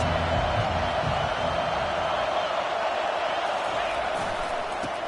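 Stadium crowd at a football game, a sustained roar of cheering and shouting that stays loud and dense throughout, with no clear single voice on top.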